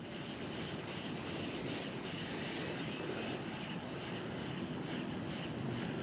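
Wind blows steadily and loudly across the microphone outdoors by the water while a fishing rod is cast, a constant broadband rush that masks any other sound and carries no speech.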